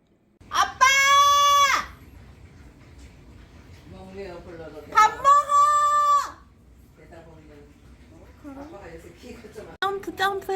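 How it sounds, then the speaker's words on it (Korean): A cat meows in drawn-out, loud, close calls, two long cries early on and fainter mewing sounds later. A person speaks quietly between the cries. "와 진짜 야옹 그러네 완전"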